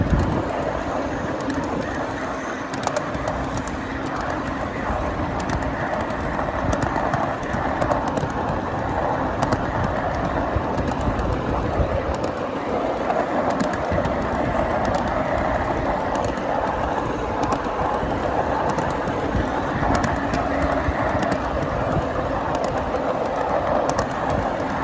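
A 7.5-inch gauge miniature train flat/tank car rolls along the mainline with a steady, continuous rumble of wheels and faint rhythmic clicking over rail joints, close and even throughout with no talking.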